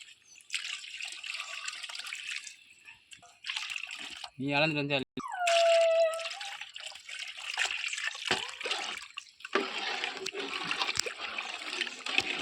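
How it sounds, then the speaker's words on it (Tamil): Water is poured from a vessel into rice for homemade chicken biryani, coming in irregular splashing and trickling bursts with pauses between them. A few brief vocal or clattering sounds break in at moments. "அப்போ 4 படி தண்ணி ஊற்றணும்."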